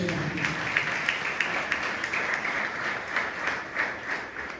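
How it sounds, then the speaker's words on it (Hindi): A church congregation breaks into sustained, dense applause during a Hindi-Urdu sermon, a steady wash of many hands clapping together at moderate volume, with a few louder bursts and no clear speech on top. "आए जोरदार तालियां उसके जलाल के लिए।"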